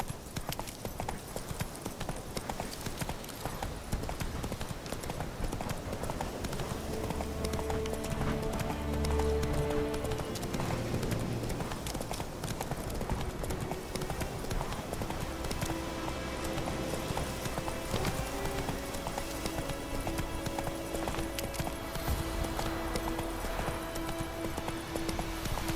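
A horse gallops in the video game Witcher 3, its steady, rapid clip-clop hoofbeats running the whole length under a layer of game music.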